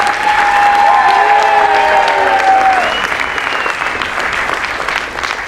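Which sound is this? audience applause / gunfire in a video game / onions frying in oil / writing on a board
audience applause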